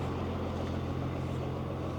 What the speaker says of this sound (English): we let the engine run while we're getting it, but it's very loud